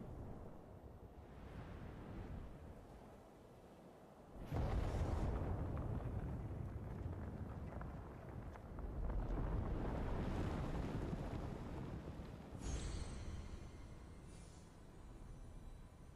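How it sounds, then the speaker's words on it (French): Icy wind roars across a mountain peak in the video game Immortals Fenyx Rising. The gusts are steady, surge louder around the middle, then ease off, with no voices. "Alors qu'un vent glacé sifflait dans ses oreilles, Phénix contempla l'imposant sommet"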